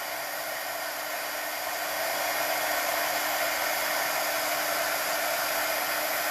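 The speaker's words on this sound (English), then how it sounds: "sorry, it's going to be noisy. Let me heat this up for a minute." A heat tool melts embossing powder with a constant loud blowing hiss like a hair dryer, growing slightly louder after a couple of seconds, steady throughout with no voices.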